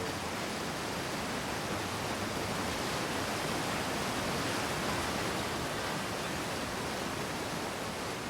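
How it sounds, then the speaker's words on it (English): Steady, loud roar of rushing water from a waterfall in the video game Outer Wilds, a broad continuous hiss like a waterfall close by, unbroken throughout. "Waterfall's so loud."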